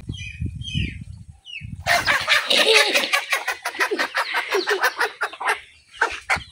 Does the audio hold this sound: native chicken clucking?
yes